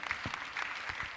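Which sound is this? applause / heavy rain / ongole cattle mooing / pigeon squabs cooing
applause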